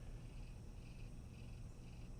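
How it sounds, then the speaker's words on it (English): A cat purrs close by, a soft, steady rumbling drone that continues without a break for a couple of seconds at low volume. "The cat."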